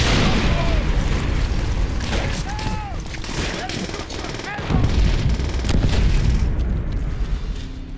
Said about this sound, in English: Fire the panzer shrek!